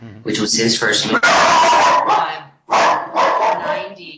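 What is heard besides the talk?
dog barking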